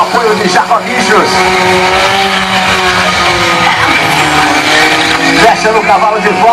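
A car drifts and spins on a handbrake at a smoky street car event in Morro da Fumaça, its engine roaring loud and steady with tire squeal, while an announcer talks over it.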